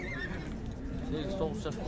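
A horse neighs at a horse market in Sokuluk, Chuy, where a pacing horse is being shown for sale. The whinny sounds fairly close and runs under continuous talk from people nearby.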